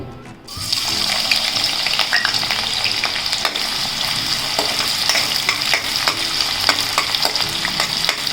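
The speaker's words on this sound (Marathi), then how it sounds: "कढई आता कांदा टाकून घेते" Chopped onion sizzles and crackles in hot oil in a kadhai, a loud continuous frying hiss with scattered pops and stirring scrapes that starts suddenly and keeps going without talk.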